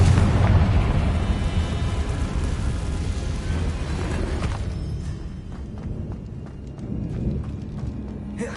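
A Confringo blasting spell goes off in Hogwarts Legacy, setting off a loud, broad rumbling explosion that slowly fades into a lingering crackling roar.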